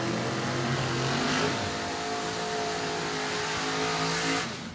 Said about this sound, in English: The wagon takes off. The Oldsmobile on the chase.